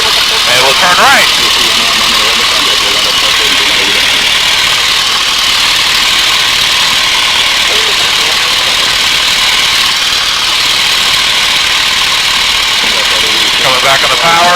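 North American T-6 Texan radial piston engine at high power during and just after takeoff, a loud steady drone from the cockpit with a pilot talking over the intercom throughout.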